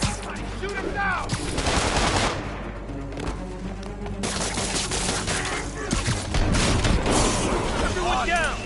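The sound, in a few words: gunfire from henchmen in the Spider-Man PS4 video game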